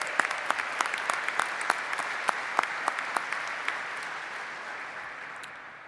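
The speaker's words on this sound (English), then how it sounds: "Can we give her a round of applause," A commencement crowd applauds an award-winning teacher and singer: a broad wash of clapping with distinct nearby claps standing out early, gradually thinning and fading toward the end.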